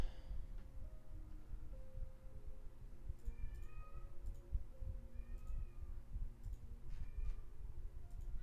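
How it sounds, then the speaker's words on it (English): A house cat meowing faintly in a room during a live day-trading session: several thin, rising cries spaced a second or so apart, distant and soft over a steady low hum and background noise, with no speech. "My cat is going crazy."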